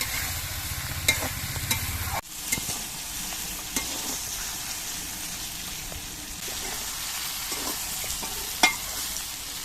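Taro stolons with potatoes frying with salt and turmeric in a pan, a steady close sizzle with a sharp stirring clatter and scrapes of a spoon throughout.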